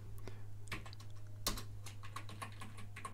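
Keystrokes on a computer keyboard while code is typed, a quick irregular run of sharp close clicks and taps with a steady low hum beneath.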